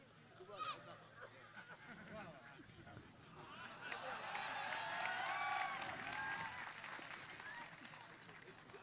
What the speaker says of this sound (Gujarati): આ ભાવ એક લાગણી છે વધાવો તાળીઓથી